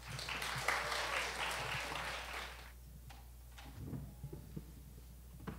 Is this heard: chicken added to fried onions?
no